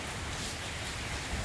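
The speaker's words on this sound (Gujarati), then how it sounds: "તો જો વરસાદ કેવો છે, પતરા પણ જોઈ શકો છો કે કેટલા હલી રહ્યા છે." Heavy rain pours steadily, a dense broadband hiss with low rumble from gusting wind over metal roof sheets, close and constant, no clear voices.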